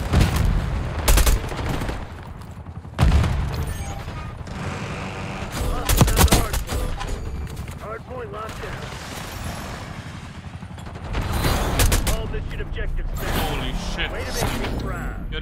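Gunfire in the shooter Black Ops 6 during a Hardpoint match on the Babylon map, several loud bursts and single shots separated by quieter gameplay, with someone talking over much of it.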